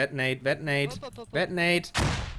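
Grenade blast in a tactical shooter match, landing as a loud broadband burst with a decaying tail near the end, right after excited caster commentary.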